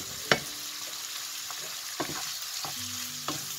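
A spoon scrapes and knocks through pastilla filling with cinnamon in a pan: a sharp clack, then several softer scrapes over a low background sizzle.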